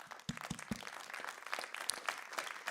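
Audience applause at a French mediation and media conference, fairly faint and distant, with scattered individual claps over a steady wash of clapping lasting a few seconds.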